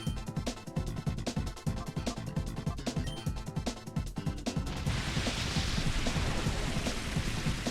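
Rain from the Rain Dance move in Pokémon XD: Gale of Darkness, a steady loud downpour that builds into a dense hiss after several seconds of rhythmic game music and battle effects, with no talking.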